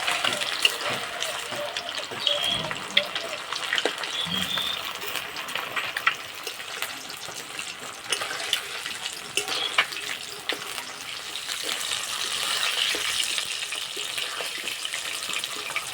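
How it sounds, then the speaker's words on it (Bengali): Fish pieces fry in a pan with a continuous crackling sizzle, close and fairly loud, with occasional stirring clatter throughout. "আর মাছগুলো বেশ লাল লাল করে ভেজে নিতে হবে।"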